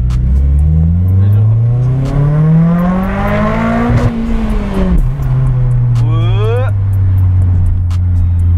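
A Nissan sports car's turbocharged 240 hp engine revs up hard through rising gears, a loud strained whine climbing in pitch, then a quick shift and another rising pull.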